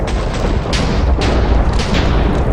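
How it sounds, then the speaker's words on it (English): Lightning strikes from infusion crafting in the Minecraft video game crack repeatedly as loud, booming bursts over a constant heavy rumble. "Lightning and more lightning."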